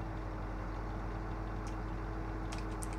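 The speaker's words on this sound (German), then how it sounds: "Starten die Batterie und den Motor." A Cat grader's engine runs in the Snow Plow game, producing a steady, low diesel rumble and hum that stays quiet and even throughout, with a few faint clicks near the end.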